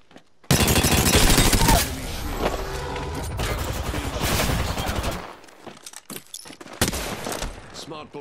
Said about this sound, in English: Smart bullets hit a foe.